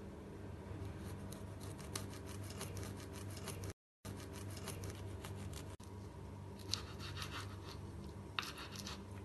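A serrated, saw-edged knife slowly slicing a soft steamed patra roll, producing faint, repeated scratchy rasps with a few light taps, quiet and close, with no talking.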